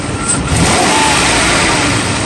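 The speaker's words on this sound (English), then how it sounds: "Engine runs beautiful." A 1995 Mercedes S600 coupe engine runs loud and close, a steady dense roar that swells slightly as it is revved, with no voices over it.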